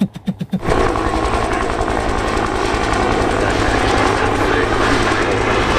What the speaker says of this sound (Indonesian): Rupanya ada helikopter angkatan darat.